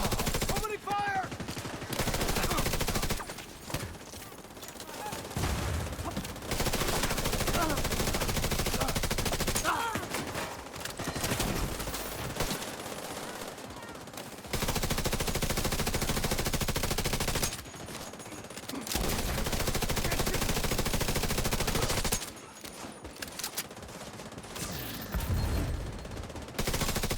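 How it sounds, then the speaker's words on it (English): Machine gun fire in a video game, long sustained bursts of rapid, loud gunfire separated by short gaps, with faint talk underneath. "Opening fire!"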